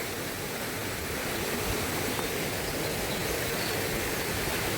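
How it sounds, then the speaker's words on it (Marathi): A steady, full rush of a stepped waterfall on farmland in the rainy season, unbroken and close, filling the whole clip with no other sounds. "तर आता पायऱ्यातला धबधबा बघूया."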